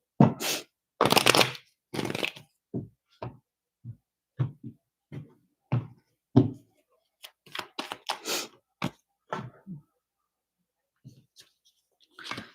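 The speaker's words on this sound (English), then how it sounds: "All right, one more shuffle." Close-up card handling: a couple of longer riffle bursts followed by many short taps and snaps of cards spaced irregularly, some brief pauses.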